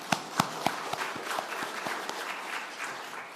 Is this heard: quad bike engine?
no